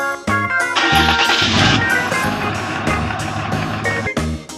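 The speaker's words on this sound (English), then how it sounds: "truck," A truck backs up with rhythmic reversing beeps: a steady run of loud, evenly spaced electronic pulses, close and without any voices.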